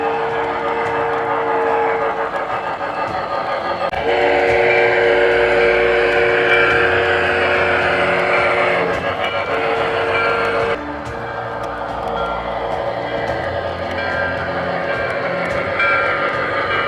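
An MTH Premier Line Erie Triplex O-scale model steam locomotive with Proto-Sound 3.0 runs with steady chuffing and mechanical rumble, and sustained whistle-like tones sound through much of it, loud and continuous with no talking.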